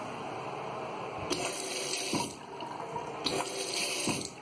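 An automatic faucet at a restroom hand wash station in a brewery, running in two short bursts of a couple of seconds each with quiet pauses between, fairly faint and heard alone.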